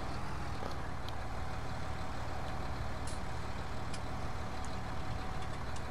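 In Farming Simulator 19, a tractor turning gives a continuous low engine drone with a steady rumble and faint higher clicks throughout.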